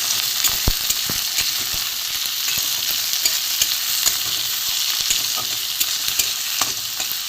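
Green chillies and tomatoes frying in a pan, a steady dense sizzle with occasional stirring clicks throughout, close and alone.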